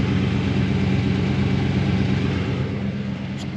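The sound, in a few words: Camaro engine running with open exhaust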